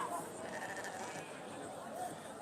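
Valais Blacknose sheep bleat amid the steady murmur of a busy show ring at the Royal Welsh Show, the calls faint and blended into crowd noise with people talking nearby.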